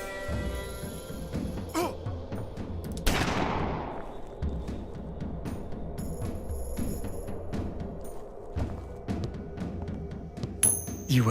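Gunfire in the PC shooter video game Blood Will Be Spilled, with sharp individual shots scattered over a low game ambience and one louder blast ringing out with a falling metallic tail.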